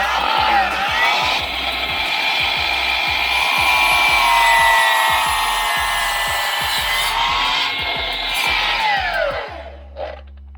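A Milwaukee M18 FMS305 12-inch cordless compound miter saw cuts across a section of wood with a loud, close whine and rasping bite, holding steady for about nine seconds before the blade spins down.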